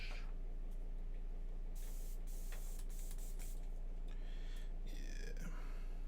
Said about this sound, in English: Grab the airbrush.